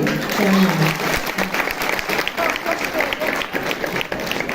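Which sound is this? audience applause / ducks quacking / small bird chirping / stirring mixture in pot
audience applause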